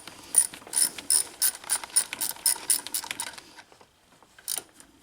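A ratchet wrench turning 10 mm bolts on a GMC/Chevrolet 1500 power steering pump clicks in quick bursts of sharp metallic ticks for about three seconds, then stops, with one short final burst. The sound is close and loud, with no talking.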